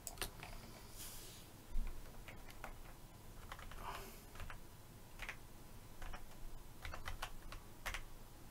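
Arrow keys on a computer keyboard are pressed in scattered light clicks and taps, some single and some in quick runs, faint and close, with no voices.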